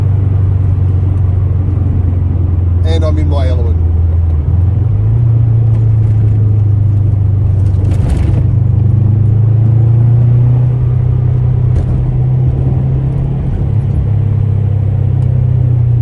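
Subaru WRX boxer engine with a 3-inch exhaust system, heard from inside while driving with the air conditioning running: a steady, loud low drone with slight pitch shifts, and someone speaks briefly over it.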